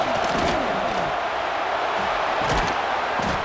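Stadium crowd noise from a college football video game, Ole Miss against UCLA in a red zone third-down play, a steady loud roar filling the whole clip with swelling cheers.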